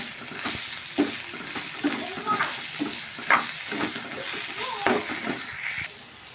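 Garlic and chili sizzle in hot oil in a pan for an egg fried rice, the frying loud and steady, with a few clinks of stirring and scraping.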